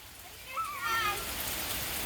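Rain falls in a soft, even patter while children play outdoors; a voice rises briefly over the quiet, continuous wash of drops.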